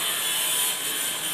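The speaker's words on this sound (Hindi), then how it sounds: "actually there is a construction work in front of our house" Steady high-pitched grinding of construction machinery, like a saw or power tool, running continuously at a distance outside a house, with no voices.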